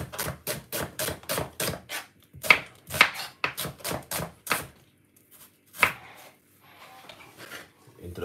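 Knife chopping purple onion on a board in a home kitchen, a quick rapid run of about a dozen close, crisp strikes, then a pause and a few scattered chops, no talk.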